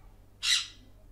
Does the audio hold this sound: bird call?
yes